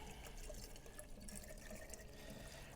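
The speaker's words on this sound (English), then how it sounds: "We're going to put some distilled water in here first." Distilled water being poured into a Mercedes SLK350, a soft, steady liquid trickle and splash with faint drips, fairly quiet and continuous, with no talking.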